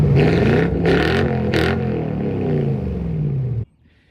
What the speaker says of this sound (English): We have a full exhaust system now instead of it just dumping at the cat.